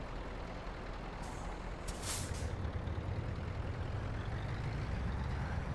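Air brakes on a heavy-haul truck in Euro Truck Simulator 2 give a brief hissing release over a steady low engine rumble, with no talking.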